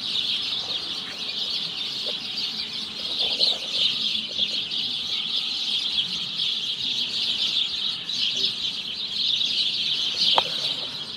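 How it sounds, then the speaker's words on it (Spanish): A dense, continuous dawn chorus of many birds in one tree chirping and chattering together, steady and fairly close, with occasional single calls standing out. "Un árbol en donde hay muchísimos pájaros."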